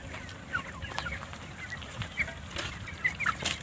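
Farmyard chickens, a mix of young birds and growing roosters, clucking and chirping in short scattered calls over a steady outdoor hum, close and without talk.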